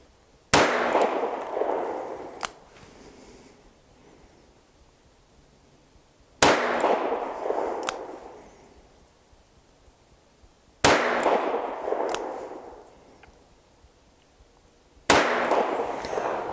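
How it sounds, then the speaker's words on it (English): A Taurus 942 .22 Magnum compact eight-shot revolver fires four sharp, loud shots a few seconds apart at close range, each crack ringing off into a short decaying tail, with no talking. "I'm just gonna do the four shots right there."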